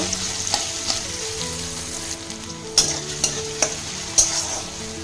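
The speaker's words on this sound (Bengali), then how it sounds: "পেঁয়াজটাও নেড়ে নেব হালকা সফট হওয়া পর্যন্ত।" Chopped onions frying in oil in a pan while being stirred for Bengali egg chops, a constant close sizzle broken by several sharp scrapes of the spoon against the pan, with no one talking.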